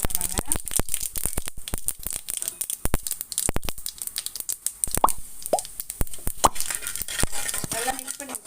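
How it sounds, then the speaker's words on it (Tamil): Mustard seeds and urad dal go into hot oil for puffed rice upma, crackling and popping in dense, sharp bursts that sound close and loud, with a faint sizzle underneath. "கடுகு போட்டுக்கிறேன். உளுந்து போட்டுக்கிறேன்."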